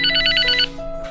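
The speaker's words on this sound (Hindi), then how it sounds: "इसका फोन आया भाई।" A phone ringtone sounds indoors at home, a bright trilling pulse repeating rapidly for just over half a second before it cuts off, leaving a faint steady hum beneath.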